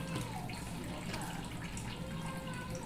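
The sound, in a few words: water being poured into chilla batter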